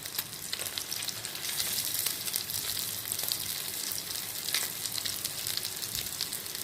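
Fish cutlets fry in a pan with a steady, even sizzle and crackle that holds throughout, close and moderately loud, with faint scattered pops and no talking.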